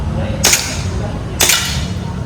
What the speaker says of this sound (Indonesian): Untuk plat 1 kali tembakan harus kena sampai jatuh.